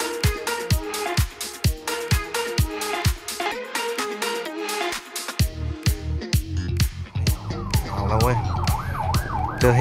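An ambulance siren in a Thai city wails in a rapid repeating yelp, loud and near, with traffic noise and a brief voice mixed in.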